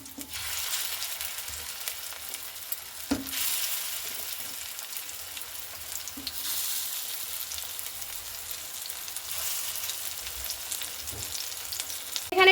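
Puffed rice (muri) snack sizzling and frying steadily in a pan over a lowered gas flame, a continuous close crackle with occasional stirring scrapes and no talking.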